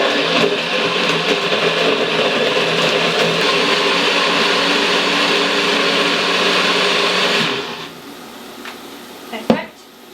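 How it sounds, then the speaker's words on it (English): A kitchen blender running steadily for about seven seconds while blending sauce ingredients, a loud, even motor whir that then winds down and stops, with a clunk near the end. "we're gonna blend it in the meantime while we are waiting for the onion"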